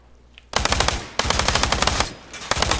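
Sustained automatic machine gun fire from ArmA 3 with the JSRS Dragonfyre Lite sound mod, loud rapid bursts in three long strings with brief pauses between them, no voices.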